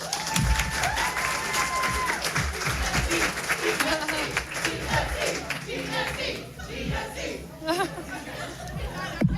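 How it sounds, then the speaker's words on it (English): Audience applause and cheering at a student entrepreneurship demo day, a crowd clapping and whooping all the way through, mixed with loud overlapping chatter and raised voices close by. "One big round of applause."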